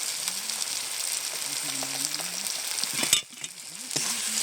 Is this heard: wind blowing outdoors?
no